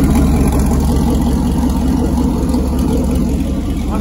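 A turbo LS V8 in a Caravan, now running without its turbo, idles loud and steady with a deep, continuous rumble and no knocking or rattle.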